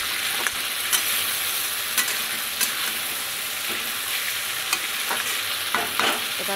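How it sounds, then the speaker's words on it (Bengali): Ground spices, turmeric, chilli powder and salt are stirred in hot oil with water in a pan, a steady sizzle under repeated scraping strokes of a spatula, with no talking. "এবার জল দিয়ে আরেকটু নেড়ে নেব"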